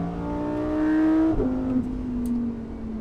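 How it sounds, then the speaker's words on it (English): A Lamborghini supercar engine drones from inside the cabin while driving on the road, a steady tonal growl that shifts pitch once as the car changes speed, heard alone without talking. "you get that engine going on in the background and this interior environment"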